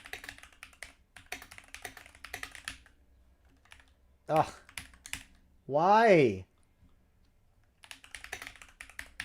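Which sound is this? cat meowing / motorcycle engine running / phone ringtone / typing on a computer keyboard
typing on a computer keyboard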